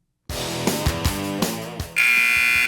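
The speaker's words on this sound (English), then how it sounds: "The sound of the buzzer means it's time for the intermission." A loud, sustained electronic buzzer blares suddenly after a stretch of rhythmic arena music and keeps sounding steadily to the end.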